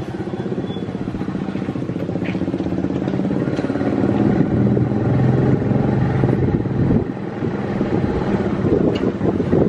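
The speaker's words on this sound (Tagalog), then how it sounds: "Mahangin dito guys." Strong wind blows outdoors, buffeting the microphone with a loud, steady low roar that never lets up.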